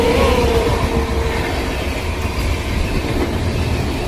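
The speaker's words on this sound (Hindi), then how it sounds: "ओवरटेक कर रही है हमारी स्पेशल ट्रेन को।" The Gomti Express, running between New Delhi and Lucknow, rushes past alongside while overtaking a special train, with a loud, steady roar of rolling wagons and rail clatter and faint wheel squeal throughout.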